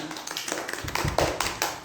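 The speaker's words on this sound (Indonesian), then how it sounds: "tepuk tangan dulu dong buat Desi dan teman-teman" Students in a computer networking class clap for classmates, a loose scattering of hand claps and taps, moderately close and fairly quiet, with a few louder hits toward the end.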